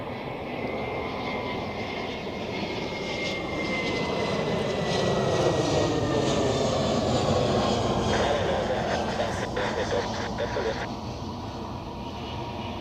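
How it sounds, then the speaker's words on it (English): Airbus airliner at Zurich Airport, a loud, sustained roar of jet engines that swells and holds as the aircraft passes nearby, with broadband rumble throughout. "Nope, that's not a Boeing, that's an Airbus."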